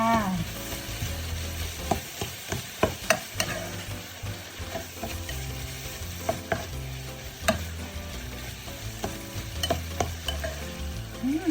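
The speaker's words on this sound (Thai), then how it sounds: "นี่ค่ะผัดให้เข้ากันค่ะ" Bitter melon stir-fried with egg in a pan, with a steady sizzle and repeated scraping, clattering spatula strokes running throughout at close range, no voices.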